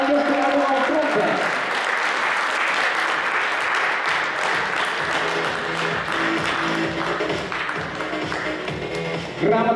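Loud sustained applause fills a hall at a youth volunteer forum award ceremony, dense clapping throughout with voices mixed into the crowd noise.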